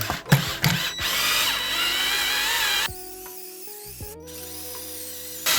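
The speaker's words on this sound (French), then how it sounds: "On perce avec du 6 directement sur la tête." A power drill with a 6 mm bit bores into a seized cylinder head screw lubricated with penetrating and cutting oil, giving a steady high whine for several seconds before slowing into a lower, uneven grinding, up close and loud.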